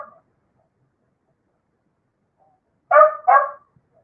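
A dog lets out two short, loud barks close by in a quiet indoor room after a long silence, the pair coming in quick succession with nothing else audible.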